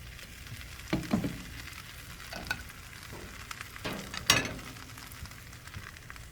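A tortilla frying in a hot pan brushed with butter gives a soft, steady sizzle, with a few close scrapes and clatters of stirring or utensil contact. No one speaks.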